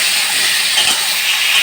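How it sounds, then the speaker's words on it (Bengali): Capsicum, carrot and beans lightly frying in white oil give a steady, close, broadband sizzle that holds evenly throughout without pause, with no voices heard. "ফ্রাইড রাইসের জন্য আমি ক্যাপসিকাম, গাজর, বিনস সবগুলোকে একটু ফ্রাই করে নেব হালকা করে"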